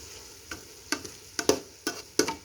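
Oil spits and crackles in a pot in short bursts as bamboo shoots cook, about six sharp sizzling pops spaced irregularly over a low background hiss, with no talking.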